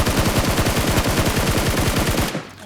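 Rapid automatic gunfire from PUBG Mobile, a dense and steady burst of loud shots that runs continuously for over two seconds, then cuts off into quiet.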